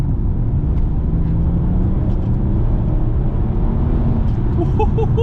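A BMW 340i F30 driven in sport mode gives a steady, muffled engine and road drone heard from inside the cabin, loud and constant with a little clatter near the end.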